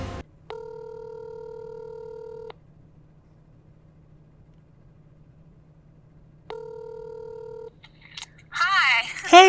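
A telephone ringback during a phone call: two separate two-second electronic ring tones several seconds apart over a faint hum, followed by a voice answering at the end.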